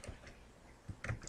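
A few quiet, separate keystrokes typing a plain-text message for a QR code, soft clicks with pauses between them and no talking.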